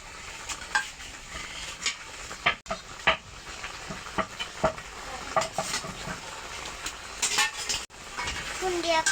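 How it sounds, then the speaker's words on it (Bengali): Small hilsa fish bhuna with onion and tomato sizzles in a pan on a wood-fired stove at night, with repeated scraping and clanking strokes of a spoon stirring against the metal over the steady frying hiss. "বন্ধুরা আমরা কিন্তু রাত কইরা লার্কির চুলায় রান্না করতেছি।"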